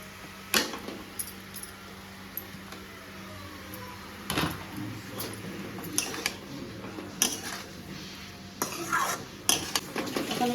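Potatoes tipped into a pan of eggplant for a kachki dried-fish curry, then stirred and fried: repeated metal spoon scrapes and clanks against the pan over a faint, steady sizzle, with no talking.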